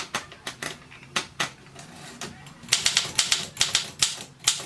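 Olympia SM2 manual typewriter in use: sharp, close key strikes arrive in irregular bursts, sparse at first, then a faster run of clacks toward the end, clear and isolated with no speech.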